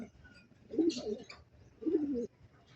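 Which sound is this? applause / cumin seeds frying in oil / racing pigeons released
racing pigeons released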